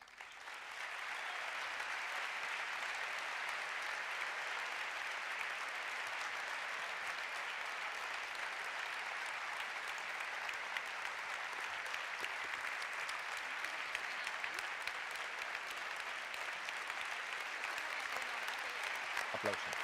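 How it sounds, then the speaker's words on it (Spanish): Sustained audience applause at an award ceremony honouring the Aragonese emergency team in Catarroja, a dense even clapping that swells in after a brief start and holds steady and loud for the whole stretch. "Aplauso."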